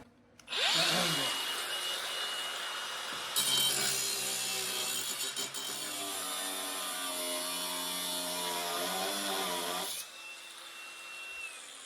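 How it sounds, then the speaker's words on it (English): A power tool cuts metal on the floor pan of a 1972 VW Super Beetle during chassis repair, a loud sustained whining grind with a brief start, a shift in pitch partway through, then winding down. "Okay, we gotta cut a little more out of that gouge"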